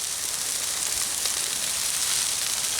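Mushrooms sizzle on a hot Blackstone griddle beside ground beef for a stir fry, a steady bright hiss and crackle close up that runs without a break and without talk.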